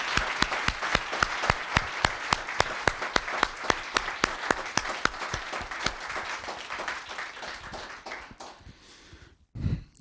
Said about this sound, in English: Please join me once again in applauding all these commissioners for their service to the town of Los Gatos